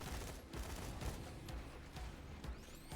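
Rapid bursts of Veruc gunfire from the Borderlands video game, played as Zer0 in a fight with enemies. Sharp repeated shots crack over a dense, continuous battle din.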